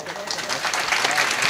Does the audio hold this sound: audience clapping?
yes